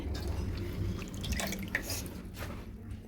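Water drips and trickles faintly as taro leaves are washed and rinsed several times, a soft, steady wet patter close by.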